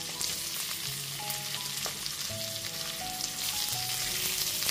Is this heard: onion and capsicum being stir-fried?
yes